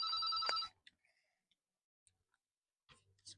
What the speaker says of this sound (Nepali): उठाउनु न फोन उठाउनु न